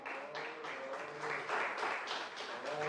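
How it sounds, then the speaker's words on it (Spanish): A church congregation claps in applause, faint and distant, a soft steady patter of clapping with voices mixed in. "Denle un aplauso al Señor."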